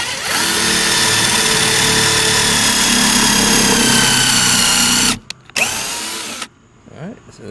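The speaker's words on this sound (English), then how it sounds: "I'll go ahead and just put some countersink holes in right here." A DeWalt number 10 countersink bit drilling countersink holes into 2x2 wood for a farm-style lantern frame, a loud steady high-pitched whine for about five seconds, then a brief restart and spin-down.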